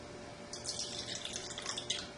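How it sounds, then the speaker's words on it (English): Tap water running steadily into a small container for a chemistry demonstration, about ten milliliters, a close, continuous splashing trickle with no talking. "So we're filling up the container with water, about 10 milliliters"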